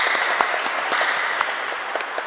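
A church congregation applauds during a Sunday Mass, with dense, steady clapping that fills the whole stretch. It is fairly loud and close, with no talking over it.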